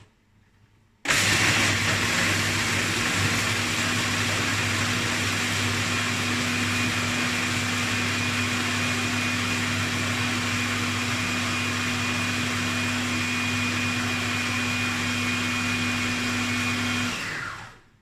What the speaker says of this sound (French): Mon mixeur qui est tout neuf, il a juste 20 ans, il est un petit peu cassé mais il fonctionne toujours